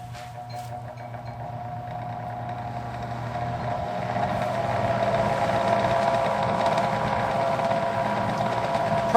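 A fan with a GE motor runs on its high setting, a blown bearing giving a steady mechanical hum and rattle that builds slightly louder partway through, heard alone and fairly close.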